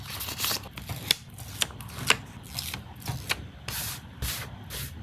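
Stickers peeled from backing and pressed onto a journal page, a quick series of crisp rustling peels and papery taps close by, irregular and fairly quiet.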